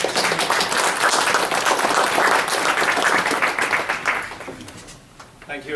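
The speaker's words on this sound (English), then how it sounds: "Please give him an appropriate round of applause." An audience at a university welcome address at Carleton claps steadily in dense, sustained applause for about four seconds, then it thins out and fades near the end.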